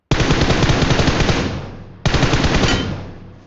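Two long bursts of rapid automatic gunfire in the mobile battle-royale game PUBG Mobile, loud and close, each rattling for over a second before trailing off, with no talking.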